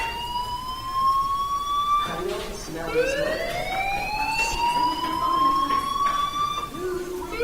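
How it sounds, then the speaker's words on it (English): A fire alarm in the video game Life Is Strange wails loudly in repeating rising sweeps, each climbing and then restarting every few seconds over a steady background hum. "do you hear that fire alarm? That means you should be outside."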